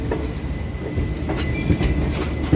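A train from Vasco da Gama rolls into Secunderabad with a steady, close rumble, wheels clattering over the rail joints and a faint squeal of metal.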